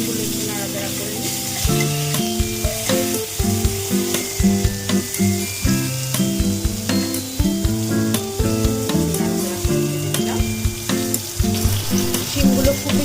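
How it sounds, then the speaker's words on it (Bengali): Flat beans sizzle and crackle steadily as they are stirred and fried in a pan with black cumin, with repeated scrapes of the stirring utensil against the pan. "শিমগুলো একটু নাড়াচাড়া করে নিই।"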